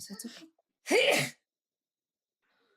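A single loud, close sneeze bursts out after a brief bit of speech, then silence follows.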